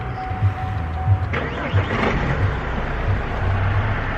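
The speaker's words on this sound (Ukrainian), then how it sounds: "як з півоберта заводиться двигун" A 2014 Opel Zafira C engine cranks and catches about a second in, then settles into a low, steady idle with a faint rhythmic thump underneath.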